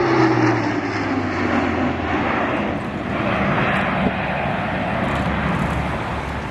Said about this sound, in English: a fast, low flight pass by the A400M Atlas